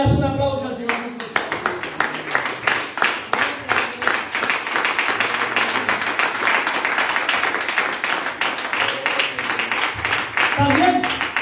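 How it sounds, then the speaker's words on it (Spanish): Church congregation clapping in a steady rhythmic beat, many hands striking together in time, with voices mixed in underneath. "Luego le das un aplauso al Señor Jesús."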